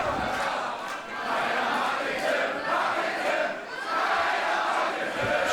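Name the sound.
wrestling crowd cheering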